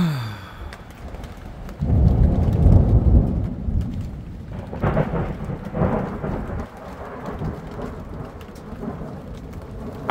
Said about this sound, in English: It's kind of starting to rain now.